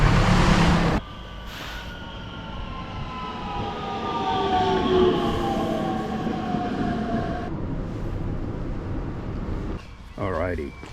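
A train rolls along with a loud rumbling roar and rising, whining tones as it runs, then quiets as it slows, with a short burst of chatter near the end.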